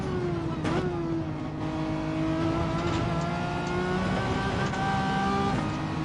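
A Renault Megane engine revs in a racing video game, a continuous close drone whose pitch rises and dips with throttle changes as the car takes curves during an open-lobby race.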